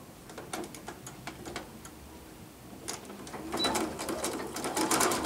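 A sewing machine runs a continuous edge seam, its needle ticking in quick repeated bursts with short pauses, growing louder and denser toward the end.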